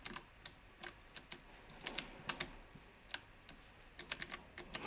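Gaming on an MSI Vigor GK50 low-profile keyboard with clicky switches gives a fast, irregular run of sharp, crisp key clicks, close up and alone with no talk.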